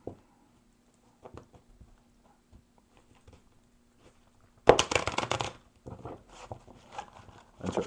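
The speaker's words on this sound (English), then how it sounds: "Let me shuffle again." A deck of tarot cards being shuffled by hand: scattered soft taps and slides at first, then a sudden close riffle burst followed by irregular flicking and patting of cards, with no talk.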